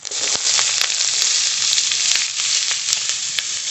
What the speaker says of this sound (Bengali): মূলোটা একটু ভাজা ভাজা করে নেব